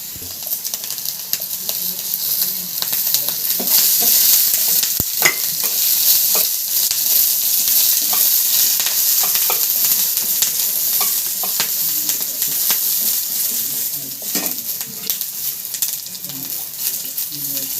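Green chilies roast in a hot pan for thecha with a loud, continuous sizzle and crackle throughout, close up, with occasional scraping stirs.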